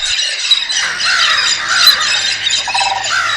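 A flock of birds in a Western Australian forest, loud harsh squawks and screeches overlapping continuously, close and dense, with no voices.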